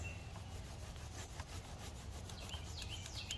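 A rag scrubs gunk off a motorcycle chain, a quiet repeated rasping rub in rhythmic strokes, with faint bird chirps in the background.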